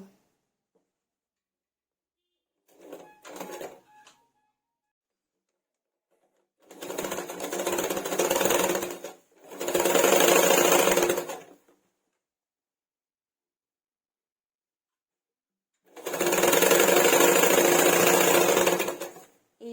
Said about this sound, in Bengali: এবারে আমি এখান থেকে সাইডে সেলাইটা দিয়ে নেবো